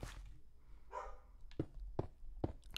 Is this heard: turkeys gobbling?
no